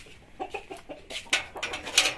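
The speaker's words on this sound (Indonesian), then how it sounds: "Ini adalah ayam black permut." Black permut crossbreed chicken clucking close by in a short run of quick, rhythmic clucks that grow a little louder, with no talk.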